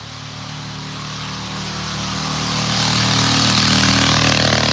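A two-stroke racing lawnmower engine drones as the mower climbs a hill at a lawnmower hillclimb race. The steady buzzing whine grows gradually louder as it approaches, with no voices over it.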